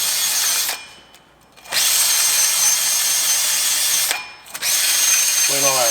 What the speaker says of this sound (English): I'm just going to use my drill and this neat little tool by 3M